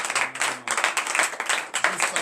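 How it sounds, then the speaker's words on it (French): Congregation clapping and applauding during a morning prayer service in Benin, a steady burst of many hands that swells and dips over a couple of seconds, fairly close and loud, with no voices. "Frères et sœurs de Christ, donnez de vives acclamations pour nous."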